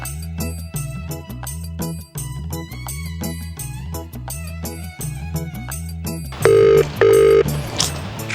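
A mobile phone places a call, with a repeating melodic ringback tune playing nearby, then two loud steady ring tones near the end.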